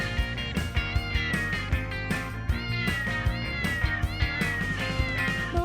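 Cat meows dropped into a Taiwanese children's dance song, several clear rising and falling mews repeating in rhythm over an upbeat music track with a steady beat.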